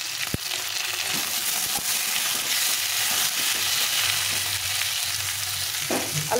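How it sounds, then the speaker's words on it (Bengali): Eggplant pieces fry in a pan with a little salt and turmeric, a steady close sizzle with occasional stirring scrapes and soft clunks, with no talking. "বেগুন একটু ভেজে নেবো হালকা করে"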